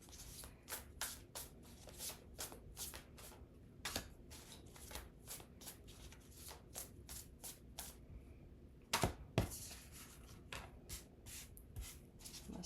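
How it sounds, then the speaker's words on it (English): Tarot cards being drawn and shuffled from a deck, a steady run of soft, crisp card flicks and slides repeating close by, with a couple of louder snaps near the end, and no voices. "Let's see if we can get a couple more cards out for Saggies."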